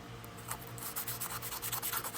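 320 grit sandpaper rubbing the inside of a vintage Kent guitar body, a close, dry scratchy swishing in quick back-and-forth strokes that grow more rhythmic toward the end.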